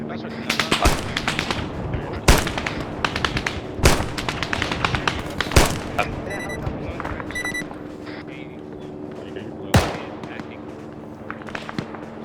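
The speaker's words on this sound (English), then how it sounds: "Anyone see the direction of the gunfire?" Sharp gunshots in the military shooter game ArmA crack out in scattered single bursts, loud and close, with voices talking between them.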